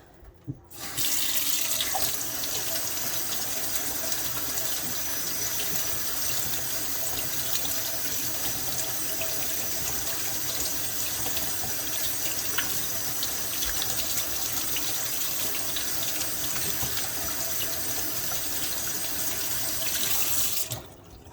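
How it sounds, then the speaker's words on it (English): Water tap runs steadily as an epoxy-coated marble craft piece is rinsed under it, a constant close hissing splash that starts abruptly and stops cleanly after about twenty seconds. "So now that we have it washed, I'm just going to rinse it off."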